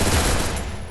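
A rapid, dense burst of gunfire from a mobile shooter game fills under a second, loud and sustained like an automatic weapon, with no speech.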